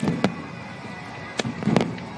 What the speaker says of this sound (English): We're going to let the fireworks display here